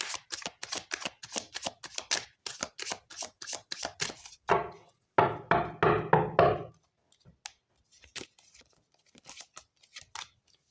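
A deck of tarot cards is shuffled close up, with rapid rhythmic riffling slaps in repeated bursts and one longer cascading bridge shuffle, followed by lighter taps and card handling.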